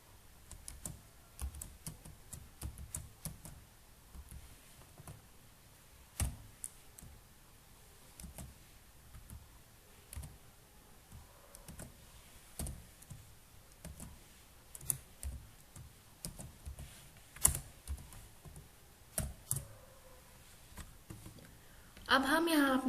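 Computer keyboard typing C code: scattered, fairly faint key clicks in irregular bursts under a person talking throughout.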